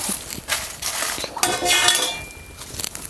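Spices for South Indian sambar masala are dry-roasted in a pan, with close scraping, clinking and stirring strokes coming in uneven bursts and no one talking.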